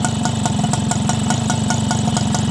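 A Yamaha Galaxy motorcycle engine, freshly fitted with a new piston, idles close by with a loud, even, rapid chugging pulse that holds steady throughout.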